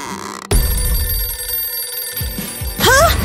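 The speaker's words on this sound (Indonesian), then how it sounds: "Telepon." A telephone rings loudly after a sharp knock, with a steady electronic tone and a burst of rising chirps near the end; no one speaks.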